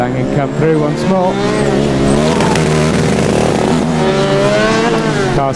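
A Formula Student race car roars past on an endurance track at a 2009 event, its engine note loud and sustained with rising and falling pitch as it passes close by.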